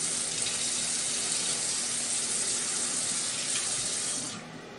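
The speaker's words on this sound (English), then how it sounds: "I'm going to go to the sink right here, and I'm going to put a little bit of hot water" Hot water runs from a tap into a kitchen sink in a steady, close hiss that continues evenly and then tapers off near the end.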